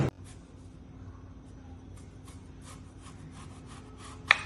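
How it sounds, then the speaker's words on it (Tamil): A knife slices through a large peeled raw plantain, giving soft scraping, rubbing cuts in an irregular series up close, with a sharper click near the end. "நம்ம தோல் செய்யாச்சு, இப்ப நம்ம கட் பண்ணிடலாம்"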